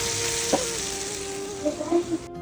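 Close, steady frying hiss of chicken in a pan for pizza, with a few soft clicks and faint vocal murmurs near the end.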